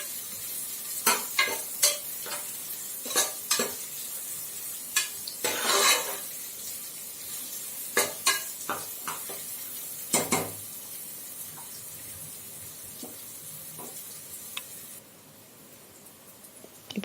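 Onions sautéing in a pan for a simple dhal rice dish, a steady soft sizzle broken by repeated clinks and scrapes of a spoon stirring against the metal, close and without any voices.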